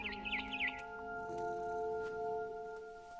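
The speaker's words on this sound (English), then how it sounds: "Then I heard chirping outside my window. It was a barn swallow going back to her nest." In the game What Remains of Edith Finch, a barn swallow gives a quick burst of warbling chirps outside a window over a steady tonal hum from the game's music, then falls silent.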